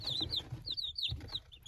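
Young chicks peep in a rapid series of high, thin chirps, close and fairly soft, several calls overlapping in a short burst.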